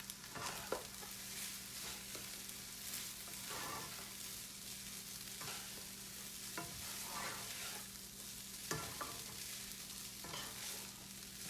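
Fried rice seasoned with liquid seasoning is stirred in a hot pan, producing a continuous close sizzle with repeated scraping strokes of the spatula at a steady rhythm.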